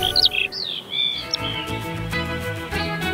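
A little bird in the Paw Patrol Ultimate Rescue World video game chirps in quick, bright tweets and squawks, loud and close, over a steady background game music bed.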